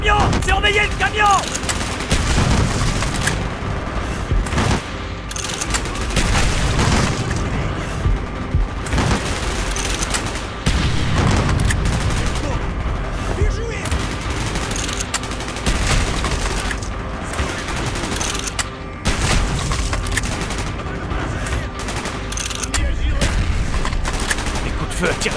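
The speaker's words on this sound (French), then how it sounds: "Les coups de feu attirent l'attention." Dense gunfire and explosions from a Call of Duty Black Ops campaign battle, with sustained automatic bursts and heavy booms rolling continuously and loudly over the whole stretch.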